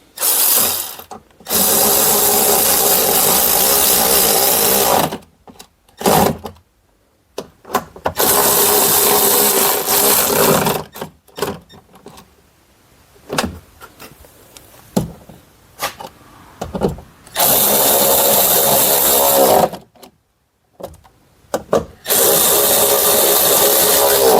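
A power driver runs four separate bursts, each a loud, steady whir lasting a few seconds, as it drives 7mm screws into a speaker in the door of a 2015 Ford F-150. Quiet handling sounds fill the gaps.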